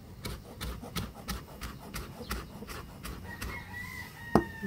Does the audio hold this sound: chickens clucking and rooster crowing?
yes